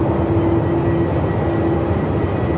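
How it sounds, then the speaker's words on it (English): Steady loud jet engine roar with a sustained whine tone from an Airbus A220 at Melbourne Airport on a very windy day, continuous and close, no talk. "The Wookiee sound when you're on board the A220 is insane."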